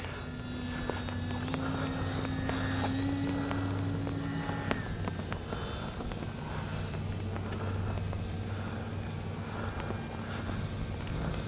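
A small engine on an H-King Kitfox radio-controlled model airplane buzzes steadily overhead on a windy day, its whining pitch rising and dipping as it passes, with constant wind noise and no talking.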